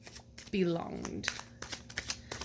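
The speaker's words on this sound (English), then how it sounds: "do you see how well it kind of shuffles? This is how I do it." A Game of Thrones tarot deck is shuffled by hand, giving a quick run of papery card slaps and riffles, close and moderately loud, with a brief wordless voice-like sound partway through.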